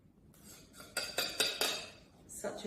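A spoon scraping the last cream out of a dish of limoncello tiramisu, a series of close metallic scrapes and clinks against the dish, several distinct strokes in a row.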